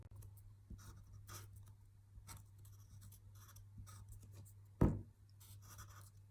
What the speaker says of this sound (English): I've now struggled to write because I'm not holding the paper with my other hand